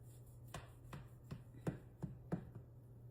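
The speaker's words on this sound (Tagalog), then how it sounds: "So, hiwain lang natin." Knife slicing through a leche flan cake with cream cheese and lemon zest, six or seven quiet, evenly spaced cuts against a board, close and soft, with no talking.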